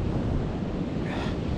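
Strong westerly wind gusts across a beach, a close, loud, continuous roar buffeting the microphone, with surf blended in underneath for the whole brief moment.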